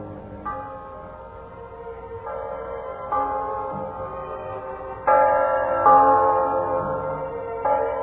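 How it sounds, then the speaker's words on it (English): Church bells ring out in a slow, overlapping peal, each new strike swelling over the lingering hum of the last, clear and fairly close. "The bells of Christmas 1945 ring out clear and free around the world to you."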